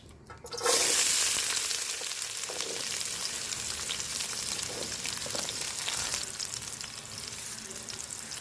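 Sliced onions drop into hot oil in a pan for a village-style egg curry, setting off a sudden loud sizzle that keeps frying steadily and close by for several seconds.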